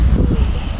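Low, blustery wind buffets the microphone in a short, rumbling gust, with no voices.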